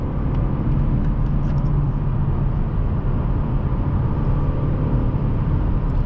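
2022-2023 Mazda3 Carbon Edition sedan in sport mode held at high revs while passing on the highway, a loud, steady engine and road roar heard from inside the cabin with no talk.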